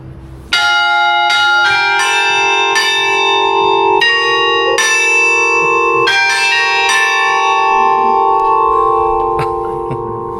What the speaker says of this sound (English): the bells should go off in about 30 seconds.